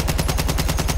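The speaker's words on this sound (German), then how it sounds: "Das ist die BAA Storm. Kein Bipod, nur 20 Schuss im Magazin." A BAR Storm machine gun fires in Battlefield 1, a loud, close, unbroken rapid burst of evenly spaced shots filling the whole second.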